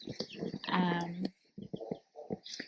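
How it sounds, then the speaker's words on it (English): Baby chicks crowded in a small box brooder peep and cheep close by, a short burst of calls mixed with a person talking over them. "So we have the little baby chickies over here in a little box, pooping everywhere, waiting to go in."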